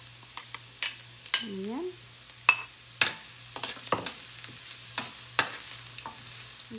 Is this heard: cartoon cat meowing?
no